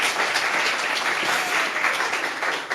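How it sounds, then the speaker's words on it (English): Sustained applause from an audience at a children's book illustration festival in Lagos, a full, loud, steady clatter of many hands that tapers slightly at the end. "Please, a round of applause for Weeda."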